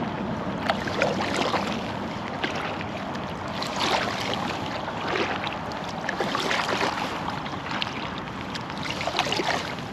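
A kayak paddled across a small lake, with gentle water splashes and drips from the paddle strokes over a steady wash of wind and rippling water, close and unbroken, with no voices.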